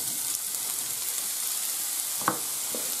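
Chopped onion sizzling in hot olive oil in a pan, a steady bright hiss throughout with a couple of faint clicks of utensils near the end.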